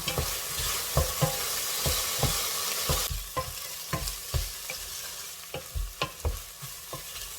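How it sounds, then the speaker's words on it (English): Vegetables for an Icelandic seafood stew cook in a pot, a steady sizzle broken by repeated scraping stirs, close up and fairly loud, no speech. "I'm gonna cook this for like 10 minutes until my vegetables will be tender"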